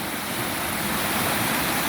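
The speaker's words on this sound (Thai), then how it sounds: "น้ำไหลจากเทือกเขาพานเป็นน้ำธรรมชาติ" Natural stream water flowing down from the Phan mountains beside a farm, a steady, dense rushing wash close by with no pauses and no voices.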